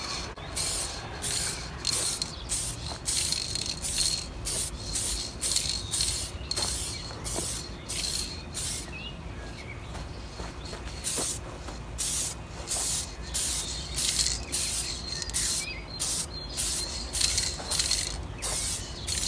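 A motorcycle is spray painted with aerosol primer, paint or varnish in a rhythm of short repeated hissing bursts, each lasting about half a second to a second, separated by brief pauses and faint clicks.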